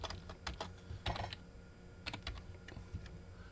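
Typing on a computer keyboard while editing a door schedule in software, with quiet, irregular bursts of key clicks and short pauses between them, heard alone and close.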